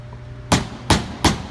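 Carbon clutch seal being hammered onto the inner lip in a Nissan GT-R R35 GR6 transmission, three sharp metallic taps evenly spaced, close and clear against a quiet workshop.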